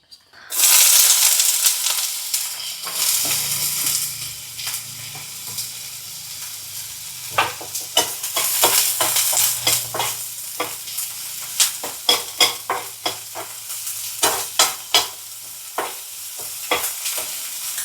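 Masala ingredients frying in hot oil in a pan for Kerala-style banana-leaf fish, a steady loud sizzle with close stirring scrapes and taps throughout, no talking.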